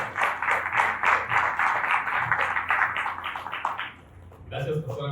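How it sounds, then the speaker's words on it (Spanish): A church congregation claps in a steady rhythm through most of the moment, fairly close and fading out near the end. A voice starts speaking afterward. "Le damos un aplauso al Señor por sus misericordias"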